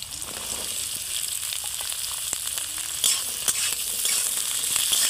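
Onions and potatoes fry in a pan for a Bengali gima shak dish, giving a steady, close hiss of sizzling oil with a few soft stirring clicks and no talk.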